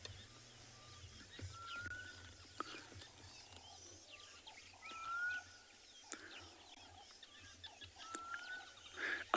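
Wild birds calling on a morning safari in South Africa, with repeated bursts of overlapping calls and chatter that rise and fall against a quiet outdoor background.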